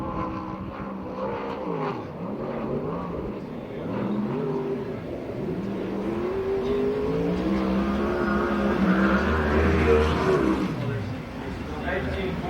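USAC/CRA sprint car lapping the Perris dirt track at the So Cal Fair, its engine note rising and falling in a steady roar as it circles, with an announcer talking over the whole pass.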